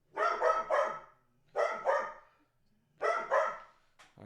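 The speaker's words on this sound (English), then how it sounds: "And now my dogs are going off." Several dogs barking at home in three quick bursts of two or three barks each, loud and close, separated by short pauses with no talking.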